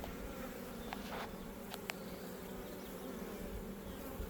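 Honeybees hum and buzz around an opened hive during an inspection, a steady close drone with a few individual bees passing near.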